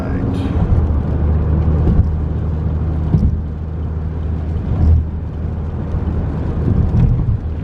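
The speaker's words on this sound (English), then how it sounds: "A fourth gear pull, should have had it in third" A car engine pulling steadily in fourth gear on a drive to work, a continuous low drone with slight swells, under occasional talk.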